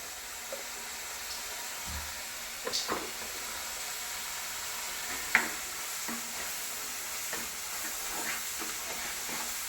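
Chicken sausage curry is stirred in a pan, a low, soft sizzle underneath with scattered scrapes and light knocks of the spoon.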